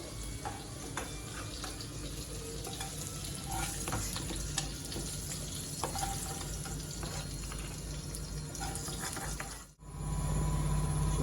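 Potatoes and cauliflower sizzle in a pan with spices, a dense, steady crackle of frying with occasional scrapes of stirring, then a brief drop and a lower, fuller hiss.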